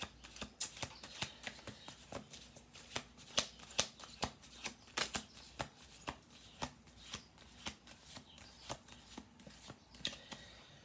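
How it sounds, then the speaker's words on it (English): Playing cards are shuffled and tapped in a steady run of crisp, papery flicks and slaps, close up and fairly quiet with no talking. "7 cards on the table. I'll do 2 more shuffle throughs"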